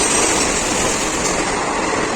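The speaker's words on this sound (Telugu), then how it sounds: "ఇది ఇప్పుడు ఒక బండి అయితే వెళ్తుంది ఇదిగోండి సౌండ్ అయితే వస్తుంది కదా" A train passes through a railway station on a morning, a steady broadband rumble and rush filling the whole stretch at close range, with no talk over it.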